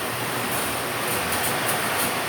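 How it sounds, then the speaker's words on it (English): Model trains run at a model railroad club, giving a steady, loud rolling rumble with a bright hiss that swells faintly in places, heard alone without talk. "It's been a while since we haven't run these trains."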